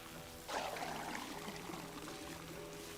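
Water poured from a can onto a plant, a soft steady splashing pour that begins abruptly and continues evenly at low level, with no talk.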